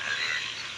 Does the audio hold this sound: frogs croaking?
yes